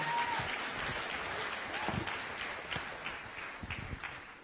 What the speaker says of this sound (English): Give a round of applause to the boys.